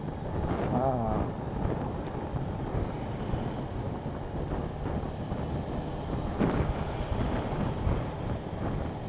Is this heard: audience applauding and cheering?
no